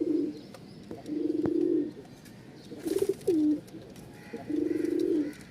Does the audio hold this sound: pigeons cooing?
yes